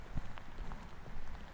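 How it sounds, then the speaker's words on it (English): Rain falling in an outdoor park, a soft steady patter of drops on surfaces, fairly faint and close, with a few brief louder taps. "Oh my God, it's raining."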